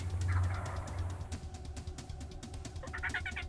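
Wild turkeys gobble in the outdoors during a hunt, a rapid rattling burst up front and another toward the end, heard at moderate distance over faint background noise.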